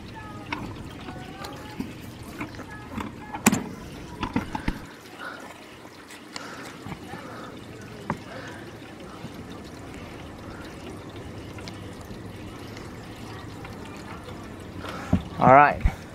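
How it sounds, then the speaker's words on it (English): Water pours from a spigot into the base of a swamp cooler, a soft continuous trickle running under intermittent speech with a few louder knocks and splashes along the way. "So we have the spigot. Fill in the base"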